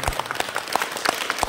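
An audience applauds a speaker at a village satsang, a steady patter of many hands clapping at moderate loudness, with a few sharper claps standing out.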